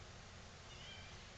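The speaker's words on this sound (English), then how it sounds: "my little kitten wanted to join us." A little kitten meowing indoors at home, a single soft, faint mew over a steady background hiss.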